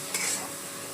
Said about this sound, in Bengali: পেঁয়াজ ভাজা বসিয়ে দিয়েছি মাংসের জন্য।